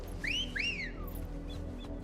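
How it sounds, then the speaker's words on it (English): Two clear rising-and-falling whistles, one after the other, sound over a steady low game background in a video game. "What was that whistle?"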